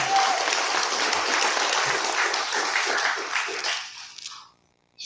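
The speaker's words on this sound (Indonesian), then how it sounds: "kita berikan aplaus" An audience at a Nasdem party event breaks into sustained, dense applause, steady for around four seconds before tapering off into a brief silence, with a last scattered clap at the end.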